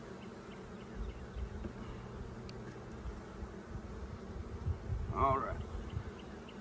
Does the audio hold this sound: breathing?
no